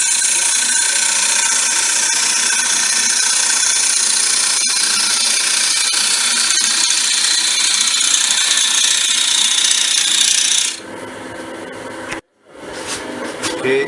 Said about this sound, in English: just using the standard grind bowl gouge just to finish off